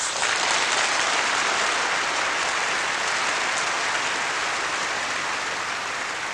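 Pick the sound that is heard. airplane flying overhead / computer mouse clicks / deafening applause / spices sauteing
deafening applause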